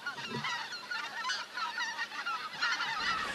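A flock of European white-fronted geese honking continuously at Lake Kerkini in northern Greece, many overlapping calls from a wintering flock, fairly close and steady, with no voices.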